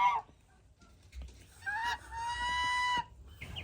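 Backyard chickens give a few close clucks, then a drawn-out, rising squawk, with short pauses of quiet between the calls.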